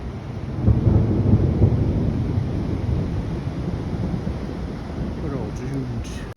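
A heavy thunderstorm in a canyon in British Columbia, Canada, roars steadily with dense rain and low rumbling thunder, broadband and loud throughout, with faint voices near the end.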